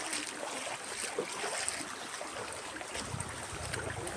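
Low motorboat engine on a river in Dingalan, Aurora, a steady broadband drone mixed with water and wind noise, a low rumble building in the last second as it nears.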